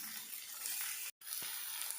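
Mango pieces frying with a little salt in a pan for a Nepali murabba, giving a steady, close sizzling hiss that cuts out briefly partway through.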